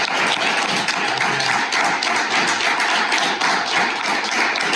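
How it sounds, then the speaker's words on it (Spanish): Audience applause fills a book presentation for a historical novel collection, a steady, dense clapping that holds at full strength throughout, with no voices over it. "Yo creo que se merece un aplauso los dos"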